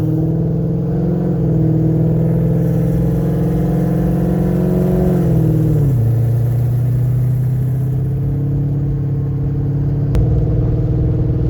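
A Ford Fairmont with a swapped-in Coyote V8 drives around an airport loop, its engine droning loudly and steadily from inside the cabin as the revs climb, dip and settle again through gear changes.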